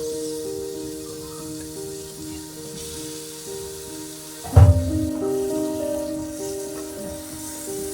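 Chicken pieces frying in masala for chicken kabsa biryani, stirred in the pan: a steady soft sizzle with a hum in the background, then a sudden louder burst of sizzling and scraping as the pieces are turned, fading back to a continuous frying hiss.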